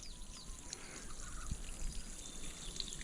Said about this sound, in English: We just gotta wait for our little spring to finish filling it up